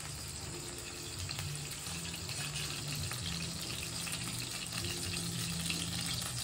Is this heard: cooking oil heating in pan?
yes